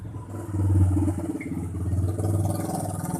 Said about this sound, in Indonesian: banyak motor lewat, suaranya keras-keras